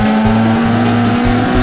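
A Mazda RX-7 drifting on a track, its engine holding a loud steady note while the tires squeal continuously, with pulsing bursts of tire noise repeating through the slide.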